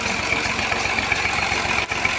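A tractor engine drives a sugarcane crusher for making jaggery, giving a steady, loud, continuous mechanical drone with a low throbbing pulse throughout.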